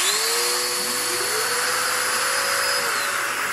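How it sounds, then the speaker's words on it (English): A vacuum cleaner roars steadily at full power, a loud continuous whine with a rising motor tone as it spins up. "when I go turn on, you'll hear the vacuum comes on"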